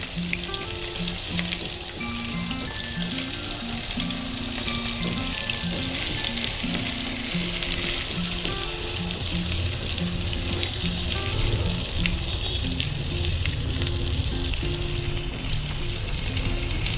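Onions roasting in hot refined oil give a steady, dense sizzle that runs unbroken, loud and close, with faint clinks over it and no talking.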